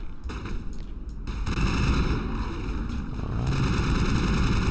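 Enemy shock troopers firing shotguns in the Mass Effect video game, a dense barrage of booming shots over a constant low rumble of battle, loud and close, with no talking.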